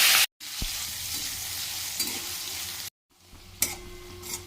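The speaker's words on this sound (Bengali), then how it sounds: "এরপরে এতে কুচনো পেঁয়াজ দিয়ে পেঁয়াজকে ভেজে নেব।" Chopped onions fry in mustard oil in a wok tempered with whole cardamom, cloves, cinnamon, dried red chillies and bay leaves, giving a steady loud sizzle broken by two brief cuts, with occasional stirring scrapes and no talk.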